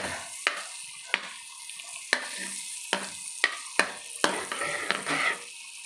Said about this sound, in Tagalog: hayaan lang natin mag-melt yung butter bago tayo mag-start